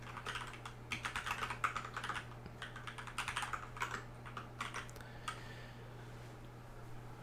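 Someone types on a computer keyboard at a command-line coding session, with close, quick bursts of key clicks that slow and fade toward the end over a steady low hum.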